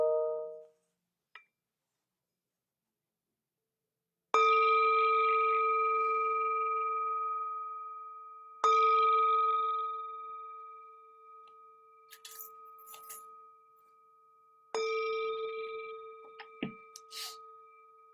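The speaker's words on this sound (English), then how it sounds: "The sound of this beautiful bell returns us to our true home." A meditation bell rings three times with slow, evenly spaced strikes, each a clear sustained tone that decays gradually, with brief faint sounds between strikes.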